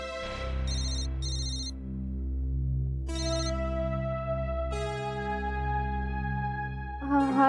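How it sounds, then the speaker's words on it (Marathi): A phone ringtone plays a looping melodic tune of repeated chiming notes, steady and fairly loud, filling the moment alone with no talking over it. "आदित्यचा फोन आहे."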